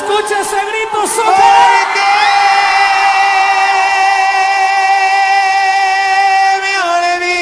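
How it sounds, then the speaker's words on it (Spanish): Long, drawn-out Mexican grito shouted over a banda corrido, a loud, high, sustained yell that slides and wavers in pitch before holding steady and then fading near the end. "¿Y se escucha ese grito solo?"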